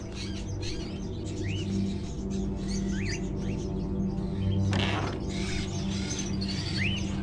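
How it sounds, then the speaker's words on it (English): Caged crows in the video game Indigo Prophecy, heard as rising squeaky chirps and calls repeating every second or two over a constant low hum, with a brief rustling burst partway through. "Are those crows in the cages?"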